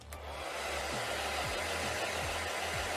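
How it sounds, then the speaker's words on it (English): A handheld blow dryer dries wet watercolor paint on paper, its steady whooshing airflow and low motor hum running continuously, faint and close, with small pitch wobbles as it moves. "I'm just going to use this blow dryer here."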